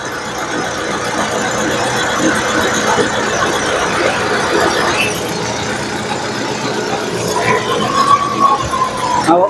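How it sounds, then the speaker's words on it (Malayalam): Steady whirring AC blower fan running inside a Maruti Suzuki Swift, a smooth continuous hum with a faint rising squeal near the end. "എ സിയുടെ ഫാൻ വർക്ക് ചെയ്യുന്നത് നല്ല സ്മൂത്ത് സൗണ്ട്"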